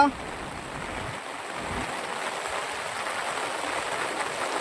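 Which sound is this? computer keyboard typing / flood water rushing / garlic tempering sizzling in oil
flood water rushing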